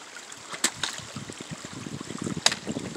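A small stream trickles beside a rocky, slippery trail, a steady soft babble of water with a few sharper splashes and clicks close by, no talk.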